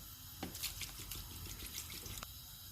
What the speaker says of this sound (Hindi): और इसमें मैं 6 गिलास पानी डाल दूंगी।